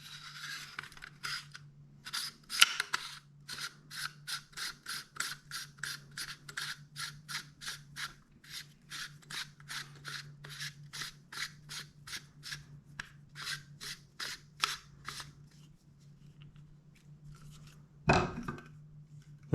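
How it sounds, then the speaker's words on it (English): Rapid, evenly spaced metallic clicks from an end cap being screwed back onto a B&T P26 pistol, a long, close, quiet ratcheting series, then a brief clunk near the end. "And you'll have your end cap. You want to screw that back in."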